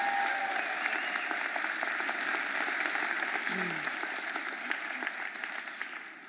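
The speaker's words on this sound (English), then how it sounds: "Give her a huge round of applause." A crowd applauds Judge Lydia Kirkland at a Philadelphia mayoral inauguration, sustained thick clapping filling the space, with faint voices mixed in and a gradual fade near the end.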